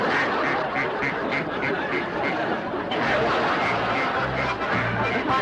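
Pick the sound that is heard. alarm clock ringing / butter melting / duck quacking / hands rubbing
duck quacking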